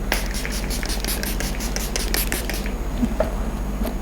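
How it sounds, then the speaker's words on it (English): Face setting spray misted on during an everyday makeup routine, heard as a quick run of soft, close hissing pumps that then stop, leaving a quiet background. "I just spray my face"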